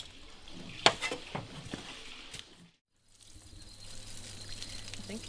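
Water from a natural energy water pump in a rainforest pours and trickles close by, with a brief drop-out before a steadier flow resumes, alongside a low hum.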